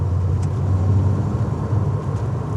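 A VW Golf MK2 VR6 engine fitted with a BMC CDA air filter revs smoothly, giving a steady, close, low-pitched rumble with no talk over it.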